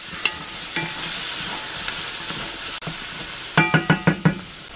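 Jalapeno and garlic frying in undrained ground beef grease in a cast iron pan, a steady hiss of sizzling with a few sharp clinks of a utensil near the end.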